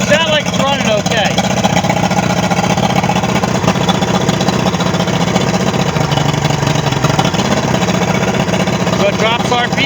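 A loud Yamaha 150 HP outboard engine on a Skeeter boat, with an intake problem, runs continuously with a rough, churning drone, its pitch sagging slightly partway through as the revs drop.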